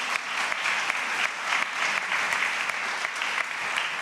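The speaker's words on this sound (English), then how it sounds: "Can everybody give them a round of applause?" Sustained audience applause follows a panel session at a Cincinnati AI week event: dense, steady clapping from a sizable crowd lasting about four seconds, with no voices over it.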